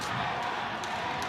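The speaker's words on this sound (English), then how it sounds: "And now the stadium is quite loud." A packed rugby stadium roars continuously during the Safari Sevens final between Kenya and Japan, a loud, dense wall of crowd noise with no break.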